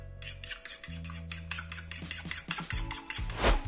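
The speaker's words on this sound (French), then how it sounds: "Je mélange bien." A utensil stirs a salted, peppered cheese mixture in a bowl, making rhythmic scraping and clinking strokes, close and steady for several seconds over faint background music, with no talking.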